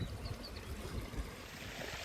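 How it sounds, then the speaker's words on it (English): A small waterfall on a stream in the countryside, a faint continuous rush and burble of falling water heard from a short distance, with no voices. "Nice little waterfall there with a path that literally goes across the top of it."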